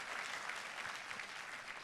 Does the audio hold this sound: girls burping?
no